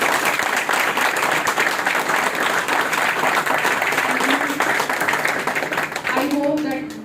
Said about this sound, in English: big round of applause to this sir.